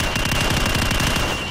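Rapid rolling gunfire in Call of Duty 4: Modern Warfare during target practice, a dense continuous burst of loud shots filling the whole stretch with no pauses.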